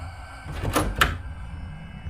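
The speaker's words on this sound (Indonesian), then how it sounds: "pintu itu dibuka oleh anak lelakinya." A door creaks and thumps open in a short sound effect for a horror story, with a low rumbling bed under it and no talk.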